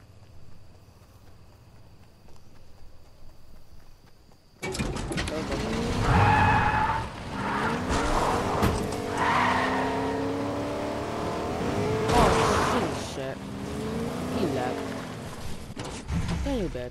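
Car in Fortnite starting up and driving, a loud buzzing engine that revs and whines through rising and falling pitch with tire skids, close by, while a player talks throughout.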